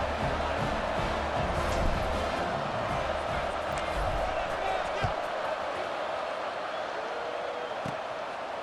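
A football stadium crowd murmuring and cheering around a kickoff after an extra point, a steady broad roar heard under a commentator's play-by-play.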